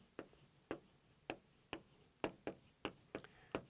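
Writing on a board during an English grammar lesson gives a series of about ten sharp, separate scratching strokes at uneven intervals, faint and close, in a quiet room with no talk.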